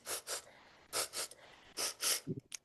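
Several short, breathy sniffs in quick bursts, close and fairly quiet, as children at a storytelling session imitate a bear sniffing the breeze, with a small snort near the end.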